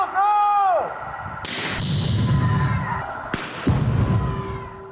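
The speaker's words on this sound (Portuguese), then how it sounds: "olha só a proporção da explosão em uma ocorrência real" Real explosion of an explosive device at a crime scene in the Andorinhas neighbourhood: a loud, sudden broadband blast that rolls into a long rumbling roar, with a second sharp boom a couple of seconds later, after a brief tonal sound at the start.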